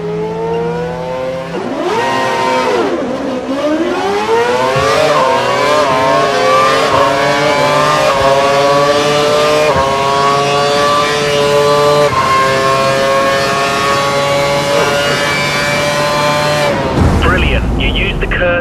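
A Formula 1 car in the F1 2012 racing video game screams at high revs while overtaking, its pitch sweeping up through repeated gear changes, loud and continuous under a talking voice.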